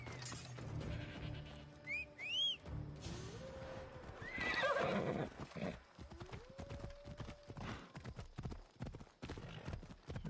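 Horse neighs and hoof clip-clops in the Assassin's Creed Odyssey video game, with two whinnies rising sharply early on and another in the middle, set against a busy game soundscape of music and effects.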